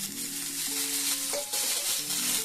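Green peas tossed into hot mustard oil with bay leaves in a wok crackle and sizzle steadily, a loud close frying hiss with a brief sharper spatter partway through.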